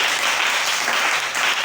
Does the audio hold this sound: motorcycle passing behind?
no